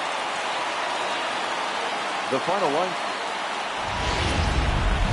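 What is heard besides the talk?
rain in a baseball video game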